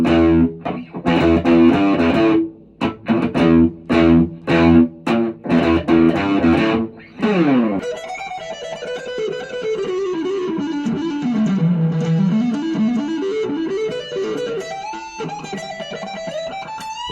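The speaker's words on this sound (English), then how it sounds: "Add some distortion, have fun with it." An electric guitar with heavy distortion plays chugging low chords in choppy bursts, then a sustained wailing note that bends and slides in pitch, loud and close with no talking.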